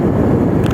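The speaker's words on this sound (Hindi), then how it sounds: "ठंडी ठंडी हवा चल रही है।" Cold wind buffeting the microphone during a motorbike ride near Narkanda, a loud continuous low roar with no pauses and no voices.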